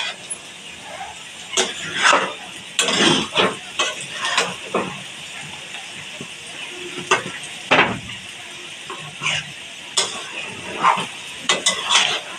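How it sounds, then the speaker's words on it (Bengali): Potatoes fry in a pan with a steady sizzle, broken by repeated scraping and stirring clatters, close and fairly loud. "আলু ভাজা লগাই"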